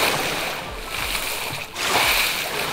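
Water in a 3D game under development makes a continuous splashing, wave-like wash with low surges, fairly loud and steady with no speech.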